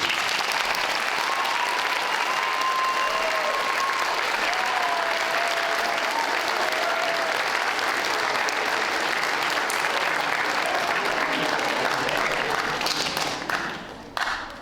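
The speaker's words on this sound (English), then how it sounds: "Can we give your form teachers a huge round of applause?" School audience at a Year 11 presentation evening gives a long, steady round of applause for the form teachers, dense even clapping sustained throughout with faint voices underneath, tailing off at the end.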